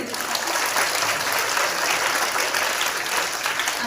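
Audience clapping for young schoolchildren dressed as revolutionaries at an Independence Day school event; steady, dense applause from many hands throughout, fairly close and even in level.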